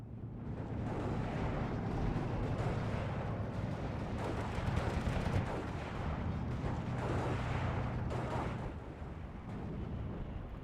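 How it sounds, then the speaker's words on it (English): Steel Division II battle with a six-pounder anti-tank gun firing, its shots blending into a dense, continuous roar of artillery and explosions that stays loud throughout, with a steady low rumble underneath. "Jeep being destroyed here by the M1 gun, which is just another six-pounder"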